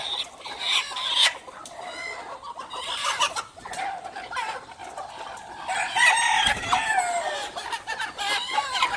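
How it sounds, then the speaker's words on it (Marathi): Free-range country chickens at a farm, hens laying eggs and clucking in overlapping bursts while a rooster crows loudly and close by, with no voices. "इकडे बघू शकता मित्रांनो अशा कोंबड्या अंडी घालण्यासाठी आलेल्या आहेत."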